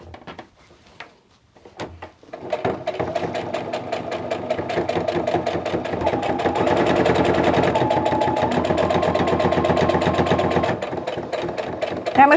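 A sewing machine stitches a tie-style fabric face mask, starting with a few stop-start clicks before settling into a loud, fast, continuous rattling run that cuts off near the end.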